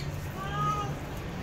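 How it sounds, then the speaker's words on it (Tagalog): A cat meows close by in a single drawn-out cry, loud against a low background hum. "Maingay ang pusa guys."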